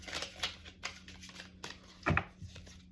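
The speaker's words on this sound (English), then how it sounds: "One more shuffle." Tarot cards being shuffled by hand, a soft run of papery riffles and flutters in short bursts, quiet and close, with one fuller shuffle near the end.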